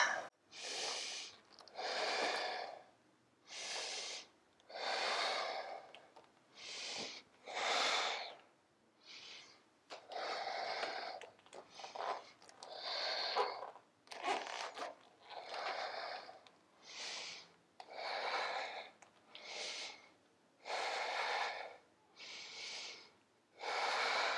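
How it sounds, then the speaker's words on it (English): Deep, slow breaths during a vinyasa yoga class, each inhale and exhale a clear broadband rush of air in a steady repeating rhythm, close and fairly quiet, with no talking over them. "5 deep breaths."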